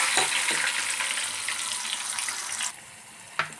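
Onion and green chilli paste hits hot oil in a pan, giving a bright, steady hiss and crackle close by that softens partway through, followed by a single sharp clink.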